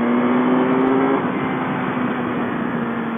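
A 2014 BMW S1000RR sport motorcycle with a quick shifter, barely run in, pulls hard under full throttle as a loud, steady engine drone that shifts pitch partway through, close and continuous with no talk.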